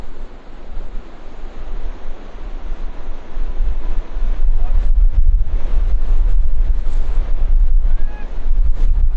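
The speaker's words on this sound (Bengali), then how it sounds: "পানির যে আওয়াজটা, পানির একটা অন্যরকম আওয়াজ, অনেক মানে বড় যে স্রোত আসলে যেরকম আওয়াজ হয় সেরকম আওয়াজ।" Water rushes over the Mohonpur Rubber Dam in Dinajpur in a loud, continuous roar, with gusts of wind buffeting the microphone and growing stronger partway through.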